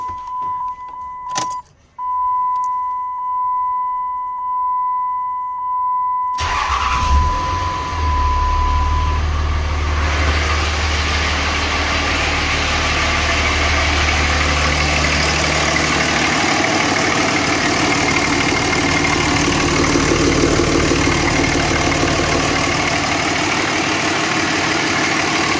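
A stock third-generation vehicle with its first mods is started after a few key jangles and clicks, catching with a burst and settling into a steady, rattly idle that runs on close and loud.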